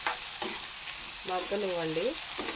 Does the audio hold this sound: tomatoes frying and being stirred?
yes